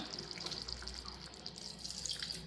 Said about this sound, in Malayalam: ഇതിലേക്ക് നമുക്ക് ഒന്നാം പാൽ ഒഴിച്ചു കൊടുക്കാം